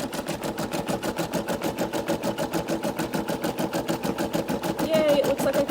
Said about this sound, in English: now I'm going to go ahead and start the blank stitch, or the top stitch over here